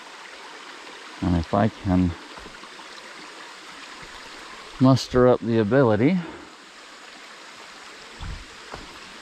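Steady broadband rush of a waterfall and flowing stream fills the background throughout, with someone talking over it in two short bursts.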